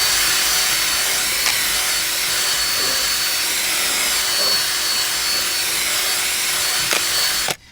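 A drill-driven scrub brush agitates a car seat during upholstery shampooing, a steady loud whirring buzz held close for nearly eight seconds before cutting off abruptly.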